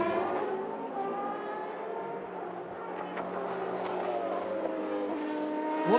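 A race car engine at the FIA WEC endurance race in Qatar, a loud, steady, high-revving multi-tone wail that holds for several seconds and rises near the end as the car passes close by.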